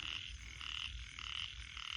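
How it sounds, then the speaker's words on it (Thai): Small frogs croak in a steady, pulsing chorus at night in wet fields, repeated raspy calls overlapping close by with a low background hum and no voices. "เขียดโมนะครับ เขียดโมครับ"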